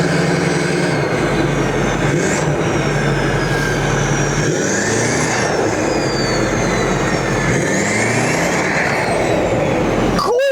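Diesel truck fitted with huge injectors pulling away, a loud deep engine drone with rising and falling whines as it gathers speed, ending in a sharp burst.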